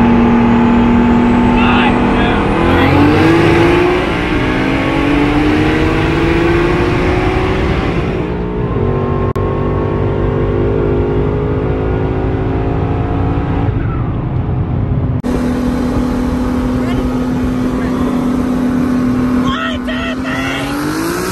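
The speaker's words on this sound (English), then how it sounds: "I will throw in a couple clips here." A boosted 5.0 Coyote V8 engine revs and roars, its pitch climbing and settling through repeated pulls, loud and close.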